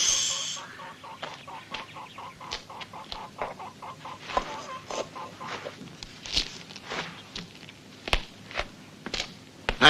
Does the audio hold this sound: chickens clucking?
yes